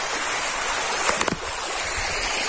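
A small river stream flows in a steady, broad rushing wash that stays constant throughout, with a few brief knocks or splashes near the middle and no voices.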